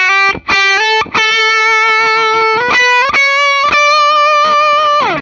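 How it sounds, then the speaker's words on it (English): An electric guitar runs through an effects pedal that adds echo and reverb, with loud sustained notes ringing out and trailing into one another over several strums. "The echoey effect kind of has a nice resonance to it"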